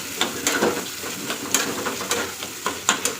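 Pangas fish fries in oil, producing a moderate sizzling hiss punctuated by frequent sharp pops and spatters at irregular intervals, close and alone without voices.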